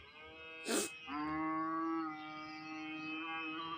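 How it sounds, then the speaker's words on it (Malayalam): A single loud, drawn-out moo from a buffalo at a cattle market, close by, following a brief sharp burst of noise, then fading into a lower sustained call. "ഇവിടെ സൈസ് പോത്തുകൾ നിൽപ്പുണ്ട്"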